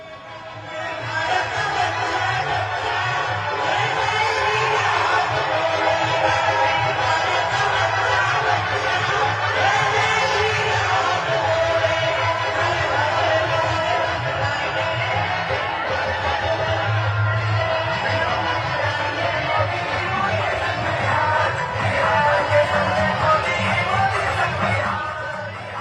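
A large crowd cheers and chatters without pause alongside PM Modi's road show convoy in Patna during the Bihar election, a dense wall of voices with whoops rising above it.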